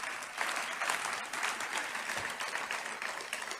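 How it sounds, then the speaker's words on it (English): Tepid applause from a political rally crowd, a scattered, moderate clapping that holds at an even level for a few seconds without cheering. "There's some tepid applause."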